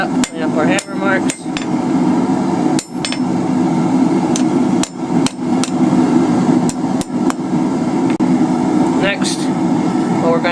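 Hammer blows ring sharply off a steel bar being forged into a bottle-opener key chain, struck in irregular bursts over a steady droning fan or blower in the forge shop; close and loud.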